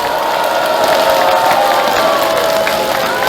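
Sustained crowd applause with some cheering from an audience at a Democratic Party members' conference in the Honam region, steady and dense throughout without gaps.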